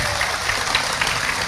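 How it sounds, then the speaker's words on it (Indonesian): Audience applause after a joke at an Islamic talk by an Indonesian preacher: a steady wash of clapping holds throughout the short moment, fairly loud and even, with no talk over it. "Tepuk tangan dulu dong."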